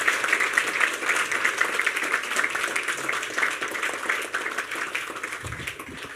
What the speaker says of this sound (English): can we get a round of applause for the judges and the hard work that they've done?